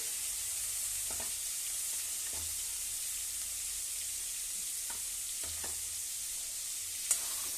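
Paneer, about two hundred grams, frying in two spoons of ghee for a white paneer kurma: a steady close hiss of sizzling with a few soft stirring scrapes and one sharp tap near the end, no talking.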